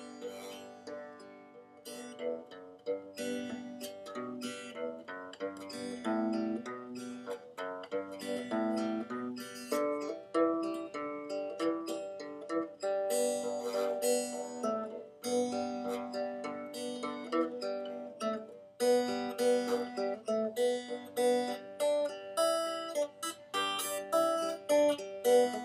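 Guitar notes picked slowly one string at a time across the strings of a chord, ringing and overlapping in a gentle arpeggio pattern, close and clear, steady throughout with no talking.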